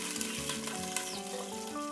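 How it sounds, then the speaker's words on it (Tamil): Onion with green and red chillies frying in hot oil in a home kitchen, a soft continuous sizzle with light crackles and stirring scrapes, fairly quiet and close, with no talking. "பச்சை கொச்சிக்காய், கறி கொச்சிக்காய் சேர்த்து லேசாக வதக்கிக்கணும்."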